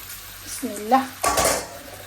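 Snail-shaped pasta tips into a pan, clattering against the metal, followed by a brief scraping stir amid a faint background hum.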